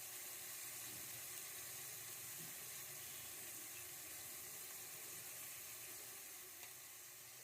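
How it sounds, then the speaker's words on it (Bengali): Onion and garlic paste sizzles in oil in a pan on a clay stove, a steady, faint hiss of frying with soft stirring throughout, no voices. "এবার একটু নাড়িয়ে চাড়িয়ে তেলের সঙ্গে পেঁয়াজ রসুন কষিয়ে দিয়ে দেব"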